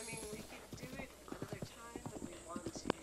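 Rapid clip-clop of a horse's hooves galloping in the Breath of the Wild video game, steady and fairly quiet, with faint talk mixed in.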